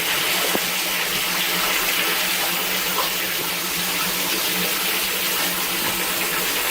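Rainwater gushes steadily out of a French drain outlet into a storm drain catch basin in clay soil, a constant close rushing flow with no speech.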